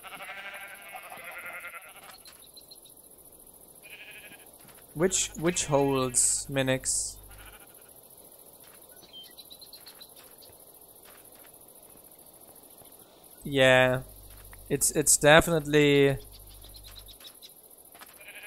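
Blocky Minecraft sheep in the Minecolonies mod give two bursts of wavering bleats, each a quick cluster of calls, separated by quiet stretches while a person talks in between.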